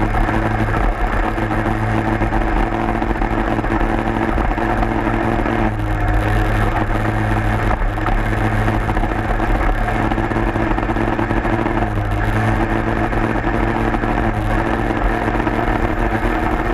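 A Peugeot 103 moped rides uphill on a newly fitted, still-unbroken part, its small engine held to a moderate, steady droning note with a few slight throttle shifts.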